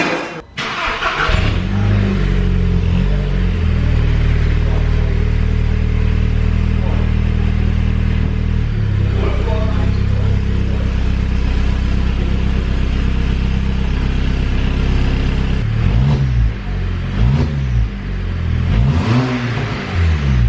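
A VW Golf GTI fitted with a decat downpipe exhaust idles loud and close after starting, then revs in repeated rising and falling bursts with a deep, steady drone, no talking over it.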